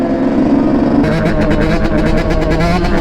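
A big motorcycle engine runs loud and close, a steady rumble that turns rougher and pulses more strongly partway through, as if the throttle is blipped.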